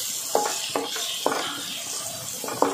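Corn upma being stirred in a pan with turmeric and asafoetida, a spoon scraping and tapping against the metal in a few distinct strokes over a soft continuous sizzle.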